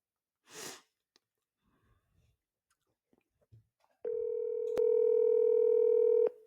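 A phone call to a seller connects to a steady electronic ringing tone that starts after faint scattered noises and a short burst, sounding clearly for about two seconds with no talk over it.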